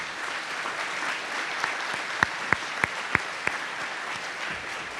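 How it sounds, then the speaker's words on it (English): Sustained applause from a seated audience at a public community event, honoring university staff, dense and steady throughout with a few sharper individual claps standing out near the middle. "I wonder if you would please give them a round of applause."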